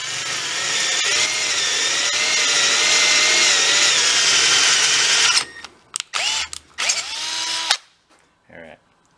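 A power drill slowly bores out a busted metal stud, its motor whining steadily and loudly for several seconds before stopping and restarting in short bursts, then falling silent, with a brief voice near the end.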